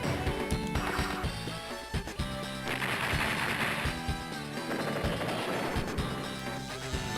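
A battleship in Advance Wars 2 firing on a rocket unit: a string of sharp crashing hits and bursts over busy game music, loud and continuous, with repeated impacts through the middle.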